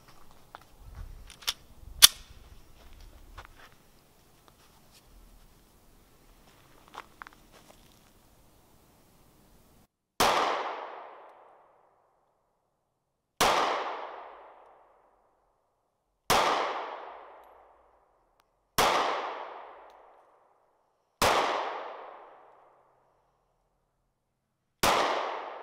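Ruger LC9s pistol firing six single gunshots outdoors, each a loud sharp crack with a decaying tail, spaced about three seconds apart after a stretch of quiet handling noise.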